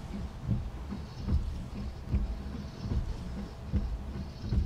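A 3 train bound for Far Abraham runs between stations with a steady rumble and rhythmic wheel clatter, moderately loud and with no talk.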